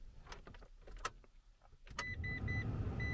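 A car engine is started after a few clicks and key rattles: at about two seconds the starter catches and the engine settles into a low, steady idle hum, close by and fairly quiet.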